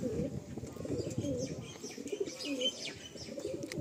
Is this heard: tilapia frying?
no